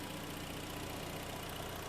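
A freshly overhauled Hyundai G4KD car engine idles just after start-up, making a faint, even, continuous hum with no talking.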